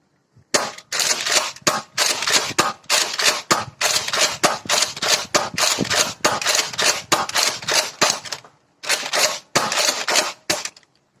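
Nerf N-Strike Rampage spring-powered blaster fired repeatedly during a range test: a loud, close run of sharp mechanical clacks and thumps in quick bursts, with a few short pauses and no talking.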